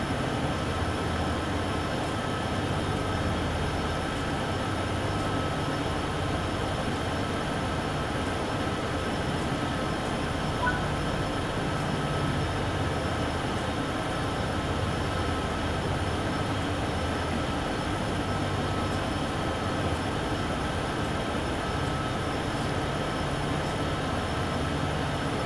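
An SD70ACE diesel freight locomotive in Train Sim World 4 hauls uphill, its engine a steady low drone with continuous rumbling wheel and track noise, unchanging and unbroken throughout, with no voices.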